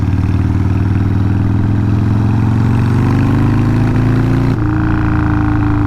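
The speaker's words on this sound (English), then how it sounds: "Did y'all hear that little stutter from the engine?" A loud 1200 motorcycle engine runs up close with a steady droning hum, then near the end its tone abruptly drops and shifts in a brief hiccup before settling again.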